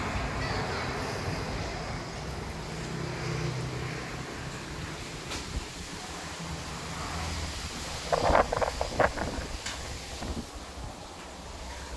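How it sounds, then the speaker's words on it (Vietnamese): Strong wind blowing outdoors at a temple in Tịnh Biên, An Giang, a continuous low roaring buffet on the microphone, with a brief burst of clattering activity partway through. "Quá gió."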